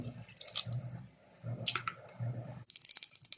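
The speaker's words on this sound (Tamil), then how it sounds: "நல்லா பொரிஞ்சிருச்சு" Mustard and fennel seeds splutter and crackle in hot oil for a kurma-style bean curry, a close, steady sizzle with scattered pops that swells into denser crackling near the end.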